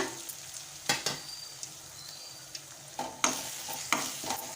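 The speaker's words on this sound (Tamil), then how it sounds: "இதையும் நல்லா வதக்கிக்கலாம்" Onion, tomato, turmeric, chili and coriander powders sautéed in oil in a pan: a steady soft sizzle with scattered scraping clicks from a spatula stirring.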